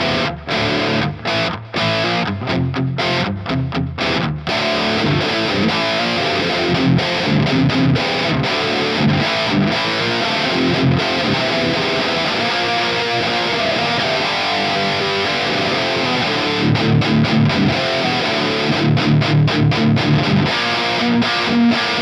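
Distorted electric guitar played through a Vein-Tap Dark Triad overdrive preamp boost pedal plays continuously, chugging rhythmic riffs with a thick, overdriven midrange tone and reduced bass, loud and up close, with brief muted stops between phrases.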